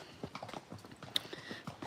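Horse hooves clip-clop in a steady walking rhythm, a little distant and fairly quiet, with no voices.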